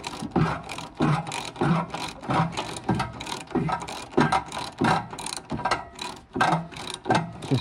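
A hand ratchet clicks in repeated quick bursts while tightening exhaust manifold bolts on a Mazda MX5 NC, rhythmic strokes with short pauses between them, close up and fairly quiet.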